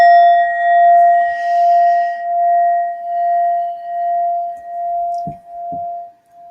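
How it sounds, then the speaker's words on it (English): A struck Indian brass singing bowl rings with a pure, steady sustained tone and gentle pulsing beats, slowly fading over several seconds, close and alone apart from a couple of faint soft knocks near the end. "I use this beautiful Indian brass bowl during the meditation with the Buddha in the middle"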